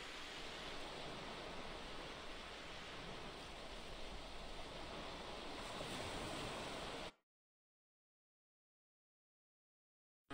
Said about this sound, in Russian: Шум прибоя звучал из магнитофона